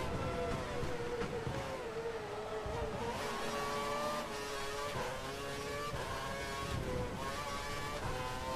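A Formula 1 car in the F1 2012 video game laps the German Grand Prix with a continuous high-revving engine scream, its pitch rising and dipping through gear changes and corners, loud and close throughout.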